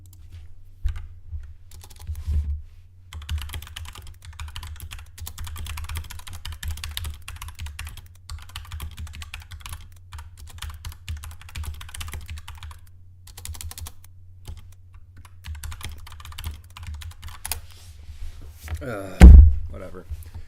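Rapid clattering keystrokes on a computer keyboard run close and fairly steady for about twenty seconds, with short pauses, a low hum beneath, and a single heavy thump near the end.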